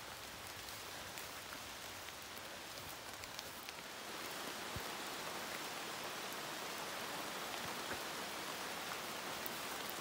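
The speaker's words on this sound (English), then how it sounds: "Sounds like it's raining really hard" Heavy rain pours down steadily through the woods on the Appalachian Trail in the Tennessee–North Carolina mountains, a dense continuous hiss with scattered drips on leaves, no voices.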